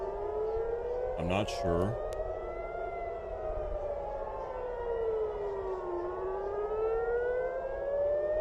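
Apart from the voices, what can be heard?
civil defense sirens in Tel Aviv during missile attack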